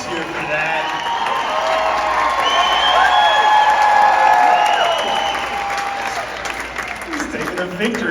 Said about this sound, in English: Let's cheer for that.